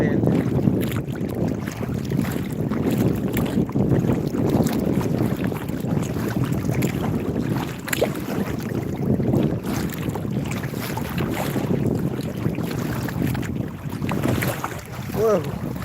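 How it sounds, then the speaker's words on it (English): Wind gusts and choppy waves slap around a small fishing boat bobbing about 35 to 40 feet off a lake shore, a loud continuous roar of wind buffeting with splashing underneath. "We are absolutely bobbing around in these waves induced by the wind."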